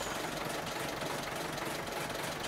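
Diesel engine of an IFA W50 auger truck in Farming Simulator 22, a steady low rumbling idle with knocking throb, close and continuous without talk.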